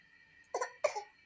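A small child imitates an old man's cough, giving two short, raspy coughs in quick succession, close and fairly quiet against a faint background hum.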